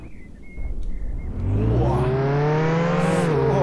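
A car engine in Roblox Jailbreak stays quiet at first, then kicks in and revs up loudly, its rising whine climbing in pitch and holding steady. One short exclamation from a voice comes early.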